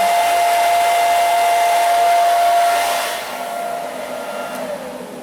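A DIY fixed-gantry CNC mill spindle blows air in a loud, steady rushing whoosh with a whining tone that lasts throughout. The whine drops slightly in pitch partway through while the airflow keeps roaring, and no voice is heard.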